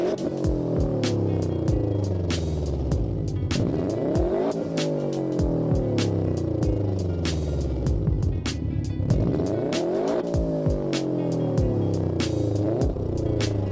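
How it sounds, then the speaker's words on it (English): A boxer-engined car revs and races continuously, its engine note climbing and falling in repeated sweeps, loud and close with bursts of tire squeal, no talking. "This is a boxer engine."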